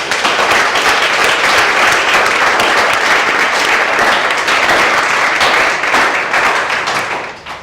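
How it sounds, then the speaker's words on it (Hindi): Loud, dense audience applause welcoming a guest at a law institute event, a sustained wash of many hands clapping close by that fades out at the very end. "इनका जोरदार तालियों से स्वागत"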